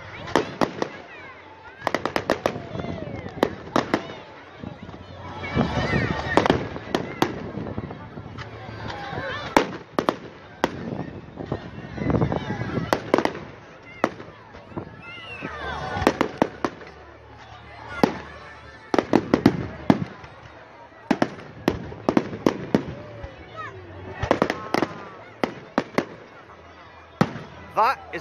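Fireworks explode in repeated sharp bursts and crackling volleys at an outdoor display, loud and irregular over about half a minute, with people talking between and over the blasts.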